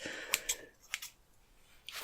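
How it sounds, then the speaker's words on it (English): Scissors snip through long hair during a DIY A-line long bob cut: several sharp, close metallic snips with quiet pauses between them and no talking. "I thought scissors would be nice. ASMR sound."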